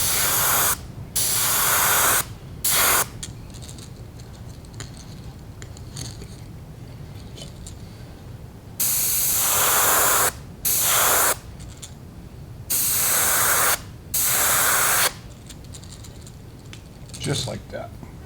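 Light bursts of airbrush spray paint on the belly of a crappie fishing lure, several hissing passes of a second or two each separated by pauses, close and steady.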